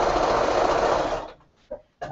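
A Bernina sewing machine runs steadily and loudly at close range with a fast whirring hum, then stops abruptly and leaves a few faint clicks.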